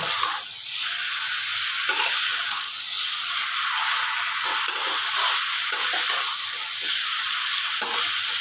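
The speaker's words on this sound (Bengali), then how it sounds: "এবার গ্যাসের ফ্লেমটা একটু জোর করে নিলাম এবার আমি মাংসটাকে ভালো মতো কষিয়ে নেব" Chicken pieces with tomato fry hard in a kadai over a high gas flame, a loud steady sizzle running throughout with brief stirring scrapes, no voices.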